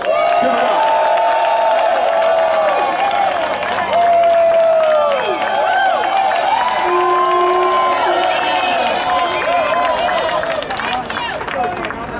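A crowd at an SEIU Uber drivers' rally at LA City Hall cheers and applauds to welcome City Council President Herb Wesson, with loud shouts and whistles over clapping throughout.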